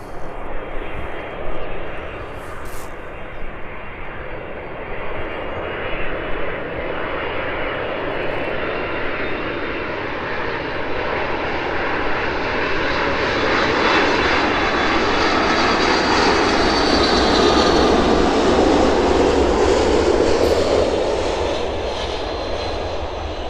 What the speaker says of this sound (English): There it is then, safely touching down, a nice smoky touchdown there from the 747.